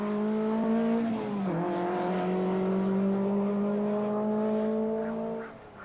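A Skoda rally car on a tarmac stage of the 1986 San Remo Rally, its engine note climbing steadily with a brief dip as it shifts, heard clearly and alone as it passes.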